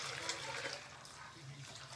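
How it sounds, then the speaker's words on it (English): Hot water runs from a tap while a reptile cage is cleaned, a faint steady splashing rush of water, continuous and fairly quiet, with no talking. "put the hot water in."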